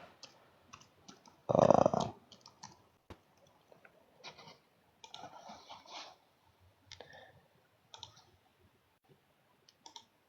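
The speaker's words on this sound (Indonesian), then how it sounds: "Saya ketik di sini dulu, bentar ya." Keys on a computer keyboard are tapped in scattered, uneven clicks, with one louder, denser burst near the start, then sparse single taps across a quiet background with no speech.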